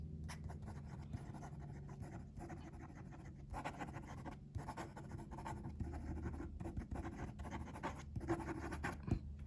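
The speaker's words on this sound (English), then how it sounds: "Quick writing." Hongdian N10 fountain pen with a firm nib and ebonite feed writing quickly on paper, a soft continuous scratching with brief pauses between strokes, faint and close.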